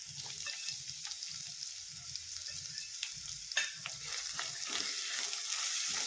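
Finely chopped chickpea greens dropped into a pan of browned garlic, sizzling and frying steadily with a few stirring scrapes and a sharper crackle partway through, close and moderately loud.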